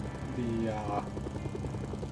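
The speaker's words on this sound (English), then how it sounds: "the helicopter does not need to get used at all" Helicopter rotor in the video game Mercenaries 2: World in Flames, a steady continuous chopping drone throughout, with a voice talking over it.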